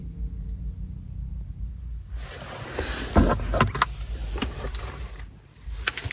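A car being brought out of a home driveway after heavy rain, with a near rumbling engine and movement noises starting about two seconds in and continuing steadily, plus a brief jangle and clunk partway through.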